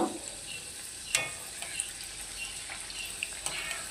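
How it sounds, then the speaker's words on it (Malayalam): Chicken samosas deep-frying in hot oil, a steady close sizzle with scattered crackles and pops throughout, no talking. "ഒരു ഗോൾഡൻ കളർ ആവുന്നത് വരെ നമുക്കിതൊന്ന് ഫ്രൈ ചെയ്ത് എടുക്കാം"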